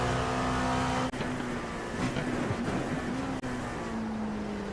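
A race car engine in a video game endurance race at Suzuka drones at a high steady pitch, revving to 8,000, with two brief cuts as if shifting gears, loud and continuous.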